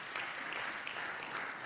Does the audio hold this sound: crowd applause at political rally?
yes